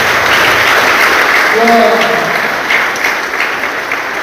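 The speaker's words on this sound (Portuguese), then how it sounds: "Você pode aplaudir o Senhor bem forte." A church congregation claps loudly and steadily through an evening worship service, a dense wash of hands close by, while a voice briefly calls out over the applause.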